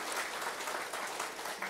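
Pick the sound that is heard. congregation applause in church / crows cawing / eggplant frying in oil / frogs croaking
congregation applause in church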